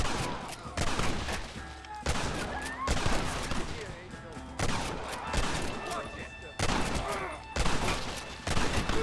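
Heavy gunfire in the Red Dead Redemption video game during an assault on a gate, rapid overlapping shots and bursts in steady waves, with voices shouting beneath the fusillade.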